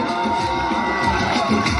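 Loud applause and cheering from a school audience at an Independence Day programme, a dense, continuous wash of clapping and crowd noise filling the whole moment.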